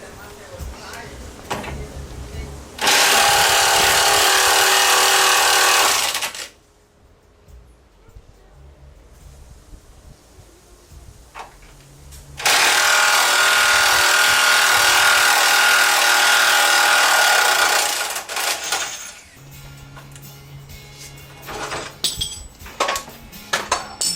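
Two long, loud bursts of a power tool, likely an impact wrench, remove the four bolts holding a truck bumper for a Warn winch mount, with quieter workshop sounds between them.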